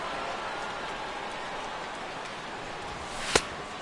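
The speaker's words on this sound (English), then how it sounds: "as the rain continues to fall here" Rain falls steadily on the ballpark in MLB The Show 16, a dense even hiss throughout with one brief sharp tap near the end.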